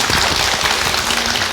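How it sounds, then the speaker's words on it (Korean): Studio audience applause on a Daejeon MBC talk show, a steady, close wash of clapping that holds at an even level for the short span with no speech over it. "박수."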